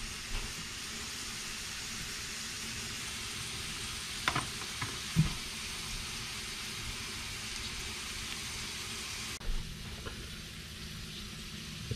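Potato pieces fry in organic extra virgin olive oil for a vegan breakfast, making a continuous even sizzle up close, with a few soft knocks and scrapes from turning the fries.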